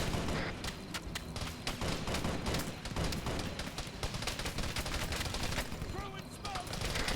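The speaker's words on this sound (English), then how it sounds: "I'm opening fire on him, but I'm up the hill." Gunfire in the Starfall sci-fi video game comes as rapid, repeated bursts of sharp shots through most of the stretch, with voices under the shooting.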